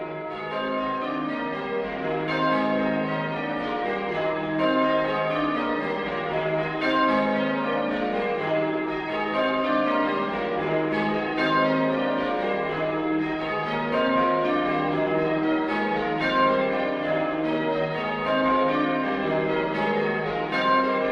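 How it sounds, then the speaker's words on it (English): Stedman is rung on eight church bells at Tadcaster, North Yorkshire, the bells striking in continuous change-ringing rounds with a regular rhythm and bright overlapping tones that ring steadily throughout, with no voices. "here's an example of Stedman being rung on the 8 bells at Tadcaster in North Yorkshire."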